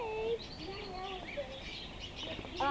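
Budgerigars chirping in a pet shop, quick bright warbles and tweets scattered throughout under steady store background noise, with excited voices talking nearby.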